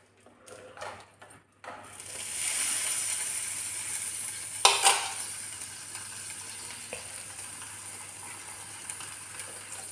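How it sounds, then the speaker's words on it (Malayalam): A jackfruit seed, mango and drumstick curry sizzles steadily in a pan just after fenugreek powder goes in. A few quick clatters of the spoon come first, then a continuous frying hiss with a brief metallic scrape, heard close with no talking. "അത് ചേർത്തൊന്ന് ഇളക്കിയെടുക്കും"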